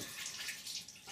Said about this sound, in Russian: И себе руки до локтя помой.